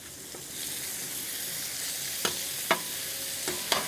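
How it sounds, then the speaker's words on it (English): Chorizo and hash browns sizzle steadily on an outdoor griddle, a close continuous frying hiss broken by a few sharp metal spatula scrapes and taps. "I'm gonna still continue to brown that just a little bit"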